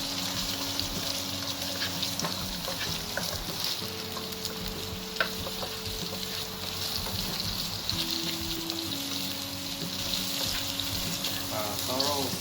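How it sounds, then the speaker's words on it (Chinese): Roast pork stir-fries in scallion and garlic oil for a festive abalone dish, giving a loud, continuous close sizzle with scattered scrapes and taps of stirring throughout, and brief voice fragments at a low level. "把烧肉爆香，"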